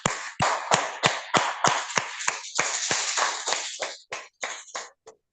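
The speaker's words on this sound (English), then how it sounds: "Please let's give her a round of applause." A single person claps at a Toastmasters club meeting, likely over an online call, in about a dozen sharp, close, evenly spaced claps that slow and thin out toward the end, with no other sound between them.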